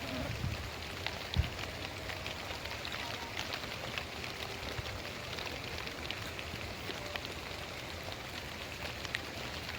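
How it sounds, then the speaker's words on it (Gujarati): Steady rain falls over farmland and cotton fields during a monsoon downpour, a continuous broadband hiss with scattered drop impacts and one brief low thump, at even loudness throughout. "જો આ મિત્રો વરસાદ પડે તો હાલ્યો આવે છે"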